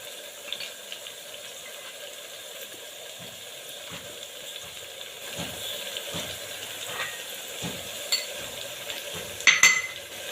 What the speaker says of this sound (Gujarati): બસ હવે આ બધાને બરાબર મિક્સ કરી લઈએ